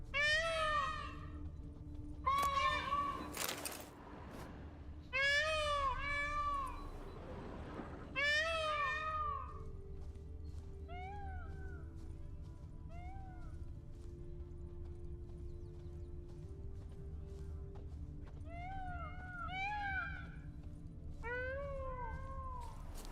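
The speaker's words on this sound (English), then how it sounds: "They sound like cats that suffer in real life." Creatures in The Witcher 3 video game let out wailing, cat-like yowls that come in clustered bursts, fall quiet, then return, over a steady low ambient drone and occasional thuds.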